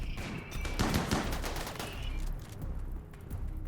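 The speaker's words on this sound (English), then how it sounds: "Whoa, there goes the rocket launchers." Rocket launchers firing during a raid in the colony game Rimworld, heard as a rapid volley of sharp blasts and cracks that peaks early, then trails off into scattered thuds and a fading rumble, with no voices.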